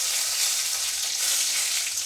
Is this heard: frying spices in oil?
yes